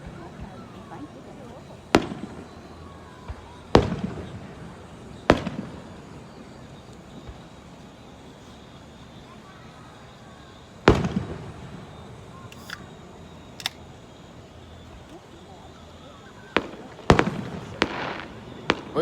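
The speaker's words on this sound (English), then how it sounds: "the fireworks, of course." Fireworks going off outdoors as scattered sharp booms and crackles, a handful of loud bursts spread across the span with quieter ambient noise and occasional talk between them.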